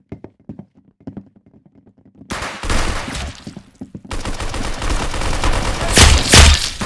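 Gunfire in the Roblox shooter Arsenal starts with sparse light taps, then breaks into loud, dense bursts of automatic fire that come in sustained volleys with brief gaps, close and harsh, with a heavy blast near the end.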